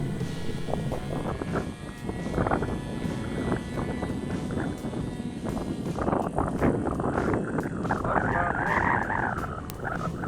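Gusty wind buffets the microphone outdoors around a running model helicopter, a loud rumbling roar with an engine whine rising and falling underneath, no clear speech.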